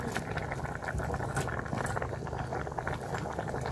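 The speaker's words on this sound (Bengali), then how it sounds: "তো তরকারি আমার বলক এসে গেছে, ফুলকপিও সিদ্ধ হয়ে গেছে।" Cauliflower curry at a rolling boil in a pot, a steady dense bubbling and gurgling hiss throughout, close and continuous with no voices.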